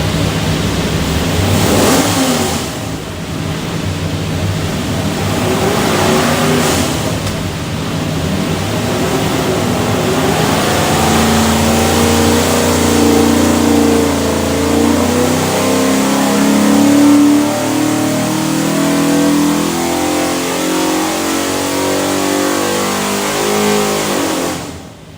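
A 347 Ford stroker V8 with SCAT crank and custom DSS pistons, bound for a '66 Mustang, roars loud and steady on a dyno, climbing in pitch through a long sustained pull for most of the run before cutting off at the end.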